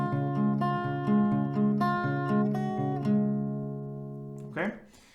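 An acoustic guitar plays a simple melody of plucked single notes over sustained open strings. The tones ring and overlap in a steady rhythm, then fade out before a brief scrape of the strings.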